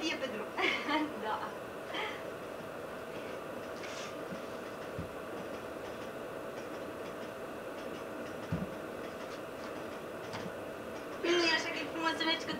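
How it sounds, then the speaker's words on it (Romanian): Passenger train rolling along, a steady low rumble with occasional clacks and thumps from the wheels, heard from inside a carriage, faint overall with brief bursts of speech near the start and end. "Nu e așa că e frumos să mergi cu trenul?"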